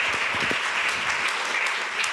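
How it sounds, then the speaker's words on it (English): Applause from a conference audience in Brussels for the panelists of an EU-Norway energy event, a dense, steady clapping that fills the room without a break. "They definitely merit a lot of applause."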